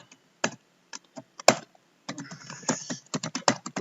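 Computer keyboard typing in short, separate key presses, then a denser burst of rapid keystrokes, close and clear with no talking.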